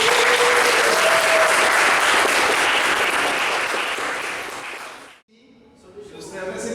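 Audience applause at a storytelling presentation event, loud, dense clapping that holds steady then fades away, followed by a voice starting to speak.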